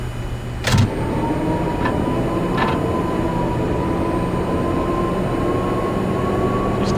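In the Max Payne video game, an electric train powers up with a clank, then settles into a steady mechanical drone with a faint sustained tone. The sound is loud and continuous, with no voices.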